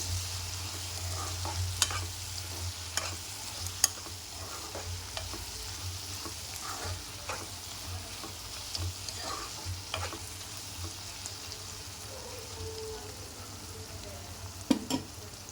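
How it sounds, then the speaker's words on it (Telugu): Brinjal curry with a spoonful of turmeric gets stirred in a pan. The sizzle is faint and low, with scattered soft scrapes and clicks of the spoon and a sharper knock near the end. "ఇదంతా దీంట్లో కలిసేలాగా కలిపేసుకోవాలి"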